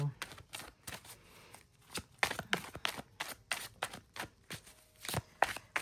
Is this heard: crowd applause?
no